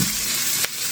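Ingredients for stir-fry chicken with broccoli sauté in a hot pan, giving a steady, close, loud sizzle with a brief louder burst near the end.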